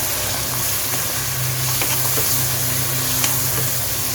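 Chicken liver frying in a pan with cumin powder while being stirred, a steady loud sizzle and hiss throughout with faint scraping of the spoon, no talking.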